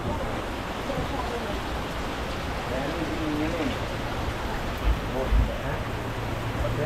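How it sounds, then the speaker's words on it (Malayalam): Heavy rain falling over the Punnamada backwaters, a dense, steady hiss that runs unbroken throughout, with faint low thumps near the end. "നല്ല കനത്ത മഴയും തുടങ്ങി."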